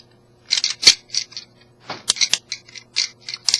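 The ratcheting joints of a Transformers Prime Beast Hunters Shockwave figure click in quick bursts of sharp, close plastic ticks with short pauses between them, loud and clear with no talking.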